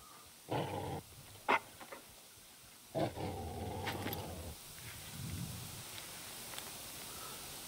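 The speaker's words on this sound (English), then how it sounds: "the dog's going crazy" A hunting dog in the video game Call of the Wild gives agitated growling barks in two loud bursts, then a quieter grumble trails off.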